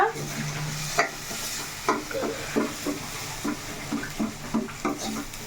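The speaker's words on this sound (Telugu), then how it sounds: "కంపల్సరీగా అయితే ఈ మసాలా అనేది వేగాలన్నమాట" Masala spices fry in a pan while being stirred, giving a crackling sizzle under a rhythmic series of scraping, knocking stirs against the pan; no voices.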